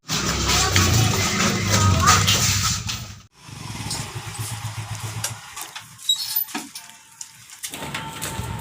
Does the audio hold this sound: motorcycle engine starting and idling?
yes